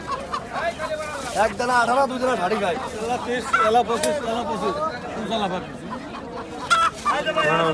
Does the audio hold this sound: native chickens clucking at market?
yes